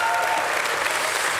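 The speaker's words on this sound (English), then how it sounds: "Give another round of applause for Mary Perry." Dense, sustained audience applause at a Laracon US developer conference in Denver, loud and continuous from a large crowd, with no speech over it.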